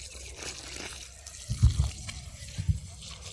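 Water from a motor-driven pipe pours onto garden plants at a village home, a steady soft splashing flow with a couple of louder gushes midway.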